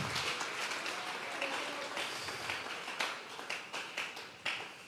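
A church congregation breaks into applause during a service, a dense wash of clapping that runs the whole time and thins into scattered individual claps toward the end.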